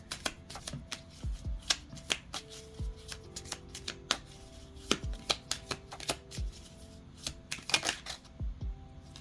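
Deck of affirmation cards being shuffled close up, a run of crisp riffling slaps and flutters in quick irregular bursts, alone with no talking.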